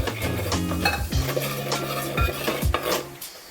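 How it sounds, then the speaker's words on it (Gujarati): A spoon stirs dal makhani gravy with ground spices in a metal pan, giving repeated scraping and clinking strokes at a steady rhythm, close and fairly loud with a faint sizzle beneath. "હવે બરાબર મિક્સ કરીશું"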